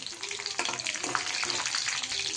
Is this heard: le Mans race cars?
no